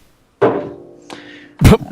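A ukulele is set down on a desk: a woody thunk with a brief ringing resonance, a lighter knock, then a heavier close thud.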